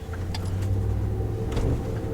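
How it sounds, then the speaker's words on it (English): A RAM 1500 pickup on 35x12.50 tires with a factory 2-inch MOPAR lift, Bilstein shocks and HEMI engine rolls over a bump in a parking lot: steady engine and road rumble with a couple of soft suspension thumps. "I'm gonna hit this bump here."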